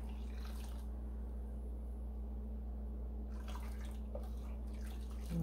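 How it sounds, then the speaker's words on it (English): Dye is poured into hot water with citric acid for dip dyeing roving, a soft, faint splashing trickle over a steady low electrical hum. "Just gonna add the dye."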